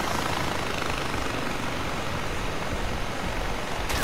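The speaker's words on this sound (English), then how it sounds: "we're literally just flying in a helicopter right now looking for these things" Helicopter flying in the video game Far Cry 3, a steady, dense rotor and engine roar holding at constant loudness throughout, with no talk over it.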